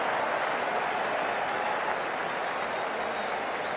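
Spectators at a women's Hundred cricket match between Birmingham Phoenix and Southern Brave applaud a six, a dense, sustained wash of clapping and crowd noise that stays loud and fades only slightly.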